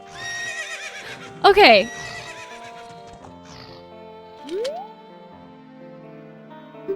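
A horse neighs in The Legend of Zelda: Ocarina of Time, a short loud whinny rising over steady game music, with a second fainter call later and a person talking briefly.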